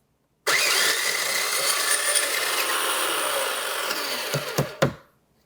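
A blender grinds freeze-dried strawberries into powder with a loud, steady, close whirring roar for about four seconds, then cuts off with a few sharp knocks as it winds down.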